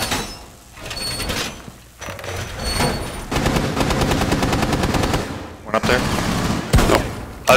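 Gunfire in Rainbow Six Siege, on the Chalet map. Short single shots give way to a long, rapid automatic burst, then a few more sharp bursts, all loud and close.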